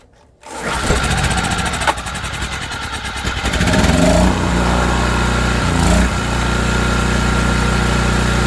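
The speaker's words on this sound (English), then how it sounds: "Generator's on. Let's see if she'll restart." An ETQ portable generator engine with the choke on cranks, catches and settles into a steady, loud running drone, its pitch rising slightly partway through, heard up close with no talking.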